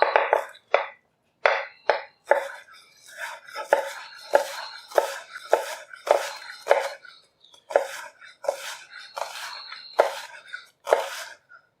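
Quick, crisp knife strikes from a Paudin 8-inch hammered chef's knife dicing an onion on a cutting board, tapping in an irregular rhythm of close, clear chops with short pauses between bursts.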